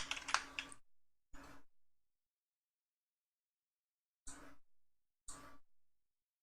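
Computer keys tapped in short separate bursts with long silent gaps between them, quiet and close.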